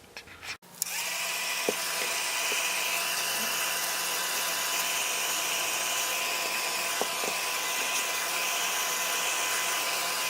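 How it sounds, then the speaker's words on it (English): A handheld heat tool dries sprayed paper for card making, switching on with a click and then blowing a loud, steady, high whirring roar without a break, with a couple of faint taps underneath. "Then I'm going to pull out my heat tool and I'm going to dry everything"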